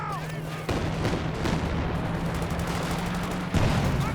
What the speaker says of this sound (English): Is that a creeping barrage?